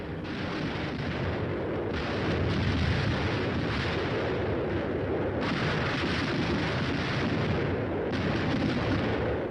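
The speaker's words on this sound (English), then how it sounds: "The air bursts fired by a battalion of 105mm howitzers present a lively show." Continuous rumbling barrage of airburst shells fired by a battalion of 105mm howitzers, dense overlapping booms rolling loudly throughout with no letup.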